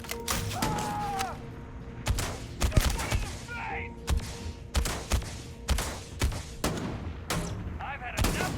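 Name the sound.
gunfire in the video game Starfield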